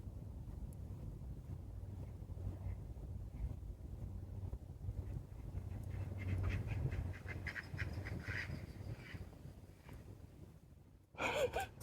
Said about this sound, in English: Oh, some ducks just flew over.